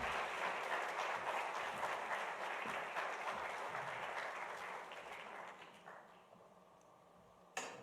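A crowd applauds three speakers at a Big Read kick-off event, steady full clapping that gradually thins and fades toward the end.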